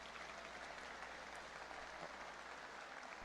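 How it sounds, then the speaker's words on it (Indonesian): Sustained audience applause at a sales training seminar, a dense steady wash of many hands clapping at even loudness throughout, with no talking over it. "kalian semua seharusnya memberi saya tepuk tangan"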